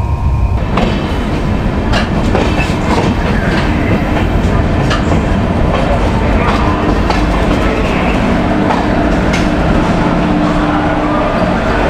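A Humsafar Express train runs on rails near Jhansi Junction in India, heard loud and close from on board. Steady rumble and rolling noise carry through with repeated clickety-clack wheel beats over rail joints.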